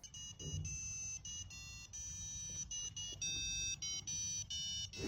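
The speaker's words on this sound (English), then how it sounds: "By manipulating frequencies using a PWM signal with a buzzer, we can create pretty good imitations of real speakers." A piezo buzzer on a Raspberry Pi watch, driven by a PWM signal, plays a run of steady electronic tones. The notes are short and follow one another with brief gaps between them, and no voice is heard.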